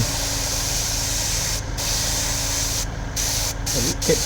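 An airbrush sprays paint onto kitchen roll in a continuous steady hiss, close and fairly loud, with a few brief pauses near the end.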